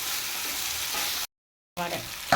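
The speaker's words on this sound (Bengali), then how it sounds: "একটু নাড়িয়ে নেব।" Flattened rice and vegetables frying in a hot pan, an even close sizzle with soft scraping as they are stirred, cut by a brief silent break before the hiss and stirring resume.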